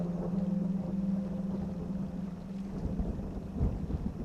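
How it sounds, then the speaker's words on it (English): Deep rumbling thunder rolls from a storm moving in over wild rice country in Minnesota or Wisconsin, a low sustained boom with a few later swells, heard alone with no talk. "We have a storm that's gonna roll in here."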